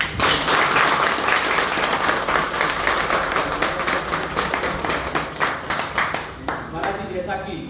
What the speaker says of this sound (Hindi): पर जोरदार तालियों के साथ